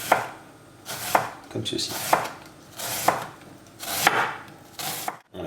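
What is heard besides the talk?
knife chopping onions finely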